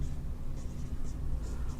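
Chalk or marker writing on a classroom board during a Class 9 science lesson on units, a steady soft scratching that runs throughout with faint strokes and no one talking.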